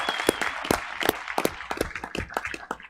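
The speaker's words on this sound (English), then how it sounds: "Let's give them another round of applause, please." A school board meeting audience applauds students, a short patch of irregular hand claps from a modest crowd in a room, fairly close and fading slightly toward the end.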